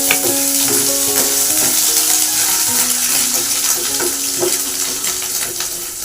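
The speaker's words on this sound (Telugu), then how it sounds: "ఇప్పుడు నేను కొంచెం అల్లం పేస్ట్ వేస్తున్నాను," Ginger paste sizzles steadily in a hot oiled pan while cooking raw banana fry, a continuous loud frying hiss with crackle, with no talking.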